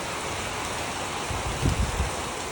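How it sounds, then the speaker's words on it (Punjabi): Steady rain hissing down on a shed roof, with a few heavier low thumps partway through, no voices. "ਲੈ ਮੀਂਹ ਆ ਗਿਆ"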